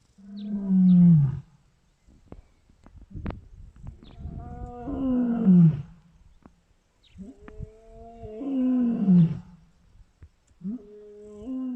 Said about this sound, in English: You can actually hear him doing a bit of a contact call right now.